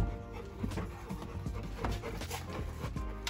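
A dog pants quickly and steadily up close, with faint whimpers over a noisy background and no talk.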